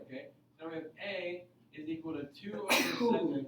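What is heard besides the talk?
sneeze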